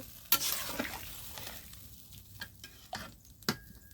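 Water poured into a pan of sautéed old potatoes for boiling, a quiet sizzle and bubbling with a few sharp clinks and scrapes of stirring scattered through it.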